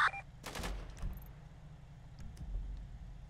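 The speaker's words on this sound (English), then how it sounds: "He's still shooting." Gunfire rings out during a shootout in a roleplay video game, a few sharp shots early on and then scattered bursts over a steady vehicle engine rumble.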